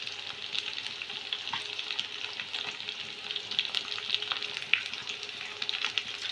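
Tempering sizzles steadily as it is poured into rice with moringa leaves, a continuous bright crackling hiss of hot oil with small pops throughout, alone and fairly close.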